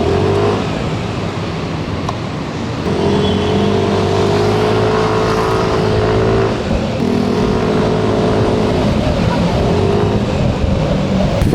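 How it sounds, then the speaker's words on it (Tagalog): A Yamaha Lexi 155 scooter accelerates hard, its engine note rising loud and close in a sustained buzzing drone with a brief dip as it shifts through its pull. "Ang lakas ng arangkada niya."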